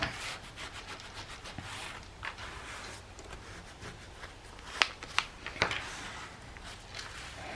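Rubbing foil down onto a handmade journal page, a soft continuous scuffing and brushing texture with a few sharper crinkly rustles near the end, close and quiet, with no talking.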